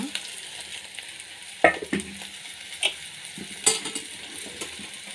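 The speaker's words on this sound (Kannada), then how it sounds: "ಚೆನ್ನಾಗಿ ಸ್ವಲ್ಪ ಎಣ್ಣೆಯಲ್ಲಿ ಹುರಿಯೋಣ" Bitter gourd frying in a little oil in a pan, a soft steady sizzle with occasional clinks and scrapes of stirring.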